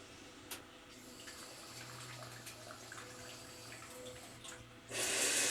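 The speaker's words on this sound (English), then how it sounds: "The touch of a button, the wand washes itself. Oh, there's a wand. Extends. It delivers warm aerated water." Warm aerated water bursts from a Toto Washlet bidet wand in a loud hissing spray near the end, after a quiet stretch of faint background.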